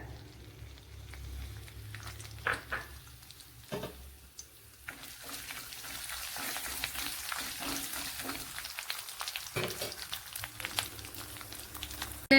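Coconut pieces sizzle gently in hot coconut oil in a pan, a quiet, steady frying crackle with occasional stirring clinks, no one talking.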